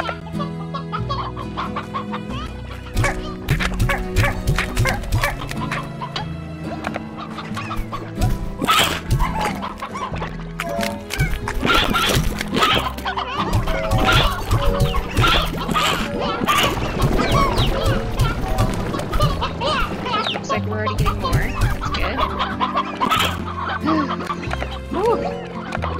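Chickens clucking in the Slime Rancher video game, a dense, continuous flock chatter of overlapping clucks and squawks with occasional clattering knocks, loud and close throughout, no talk.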